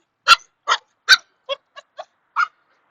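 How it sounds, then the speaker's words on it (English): A dog gives seven short, sharp barks in quick succession, close and loud against silence, with the later barks slightly softer and shorter. "here another dog."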